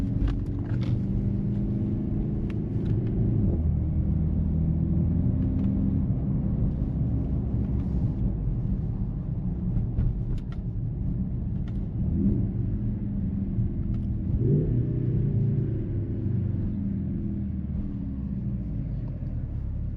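A 2025 Mercedes-AMG GLC 63 S E Performance hybrid coupe drives in dynamic mode, with a steady loud engine rumble from inside the cabin, a few brief dips and surges marking gear changes.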